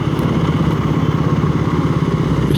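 Motorcycle engine of a learner rider on a Singapore road, a steady close drone throughout with a low rumbling hum and no talk.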